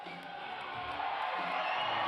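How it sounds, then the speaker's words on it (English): A packed arena crowd cheers for fighter Chalmers at a Hard Knocks cage fight, a dense, distant roar that swells steadily and never stops. "you can hear the crowd for Team Chalmers, Chalmers packing the stands here tonight"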